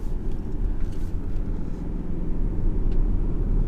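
A 2018 BMW X4 20d diesel SUV driving on a B road, a steady low engine and road rumble heard from inside the cabin, with no talk.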